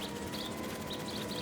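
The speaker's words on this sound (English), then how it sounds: "Neuropody albicollis, the white-throated bee-eater bird." Faint, repeated chirping calls of a white-throated bee-eater in Marvel's Spider-Man 2 rise in short bursts over a steady bed of ambient noise.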